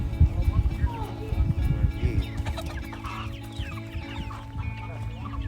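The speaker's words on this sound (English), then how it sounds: "They're catching their own chickens out here right now." Chickens clucking and squawking close by as they are caught with a net on a ranch, busy overlapping calls at the start easing to scattered clucks, with people talking over them.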